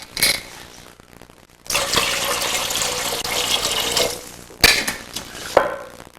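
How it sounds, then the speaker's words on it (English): Chicken broth pours steadily into a pot of vegetables for a few seconds with a rushing splash, bracketed by clinks of a container against cookware. "And a roughly equal big splash of chicken broth."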